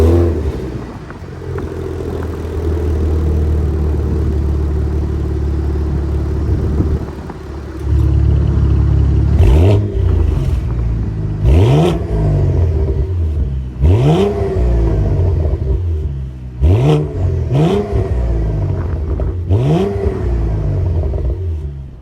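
Twin-turbo 3.6-liter V6 of a 2023 Cadillac CT4-V Blackwing with quad exhaust tips, idling at a steady loud rumble, then blipped through about eight sharp rev spikes that rise and fall back, close by with no talking.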